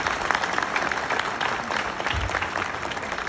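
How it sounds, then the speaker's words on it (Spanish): A studio audience on a Spanish-language TV program tied to La Voz Kids claps in sustained, dense applause that fills the whole stretch at close, even loudness. "Un aplauso aquí a nuestro partido."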